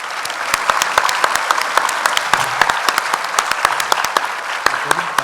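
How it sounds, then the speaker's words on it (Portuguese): An audience at a Brazilian justice-report meeting claps for a staff team, giving dense, steady applause with sharp individual claps standing out near the front and no talk over it. "Eu peço aos senhores uma salva de palmas para essa minha equipe."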